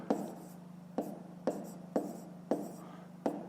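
Pen strokes writing numbers by hand on paper during a fifth-grade maths exercise, six short scratchy bursts at a steady pace with a faint hum underneath.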